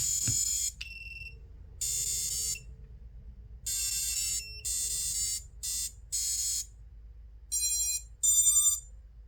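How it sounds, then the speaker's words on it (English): An Exen Design Orca 5 FPV drone's beeper sounds at power-up with a series of shrill, loud electronic beeps and tones in uneven bursts, separated by short gaps, close by. "And the beeper's working."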